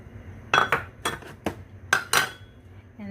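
A utensil knocks and clinks against a bowl while minced pork and beef are mixed with garlic, onion and seasonings for homemade burger patties, giving about six sharp, close taps in an uneven rhythm.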